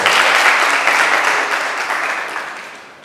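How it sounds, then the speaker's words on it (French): Enthusiastic audience applause for a rapper at a press conference launching an arts project, loud and dense at first, then gradually tapering off over a few seconds. "Applaudissez très très fort"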